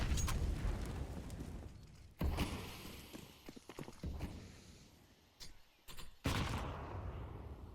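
Counter-Strike match on the Inferno map with AK rifle shots and other gunfire, faint, sharp bursts separated by gaps amid low game ambience.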